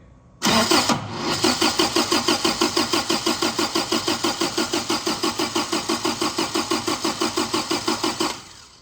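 Engine of an 80s turbo Toyota truck being cranked by the starter: a loud, fast, even chugging of about five turns per second that runs without catching for nearly eight seconds, then stops.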